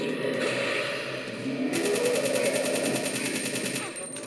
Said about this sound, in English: How many machine gun bullets does he want?